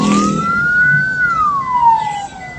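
An ambulance siren wails loud and close in one long rising and falling sweep, heard from inside or near the vehicle against a low rumble of traffic.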